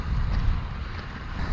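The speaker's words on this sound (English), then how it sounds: "that wind, as expected, has gone up" During a bike ride, a steady low roar of wind buffets the microphone with no break. It is loud and fills the whole moment, and no voices are heard.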